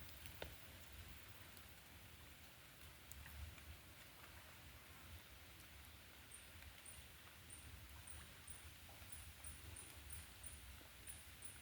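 Rain falls steadily outdoors by the Mekong river during night fishing with hooks, a faint, even hiss of drops with soft rustling and a few small ticks, no voices.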